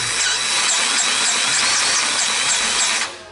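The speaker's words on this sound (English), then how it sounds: "battery operated grease gun from DeWalt" A DeWalt battery-operated grease gun whirs steadily and loudly at close range, its high mechanical drone running without a break before cutting off abruptly near the end.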